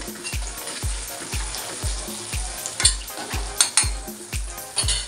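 Masala tipped into softened tomatoes frying over low heat in a pan, a steady close sizzle broken by regular stirring scrapes and clinks of a spoon against the metal, with no talking.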